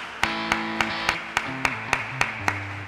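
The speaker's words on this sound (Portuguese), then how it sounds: "Vamos aplaudir a Jesus." A church congregation claps in steady rhythm, crisp claps landing roughly three times a second over sustained worship music.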